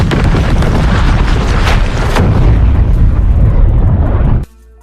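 A huge sustained blast as an alien ship is blown up in a movie scene, a loud roaring rumble lasting over four seconds before cutting abruptly to near silence.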